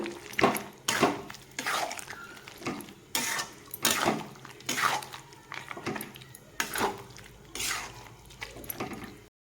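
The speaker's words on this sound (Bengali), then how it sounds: "একটা চামচ দিয়ে ভালোভাবে নাড়িয়ে চাড়িয়ে নেব" Mutton coated with spices is stirred in a pot with a spoon, producing a run of rhythmic scraping clinks and knocks against the pot, close and fairly quiet, roughly one stroke a second with no talking.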